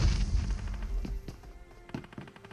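A grenade goes off in a video game after being cooked too long, leaving a rumbling boom followed by several sharp, thudding bursts that taper off over a couple of seconds.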